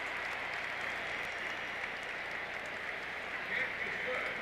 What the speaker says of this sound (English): A lot of applauding on the sidelines.